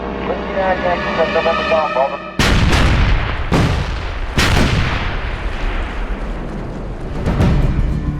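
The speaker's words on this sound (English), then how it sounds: "The battleships, cruisers, and destroyers, already at work for 2 days, begin their final softening up of the beaches." Naval gunfire from battleships, cruisers and destroyers bombarding landing beaches, heard as several loud, sharp booming blasts with rumbling decay, following a tonal stretch at the start.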